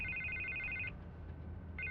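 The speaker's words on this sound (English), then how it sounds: "I can't get the phone to stop ringing." Telephone ringing in a Batman video game: a bright electronic trill sounds for about a second, stops briefly, then starts again over a low room hum.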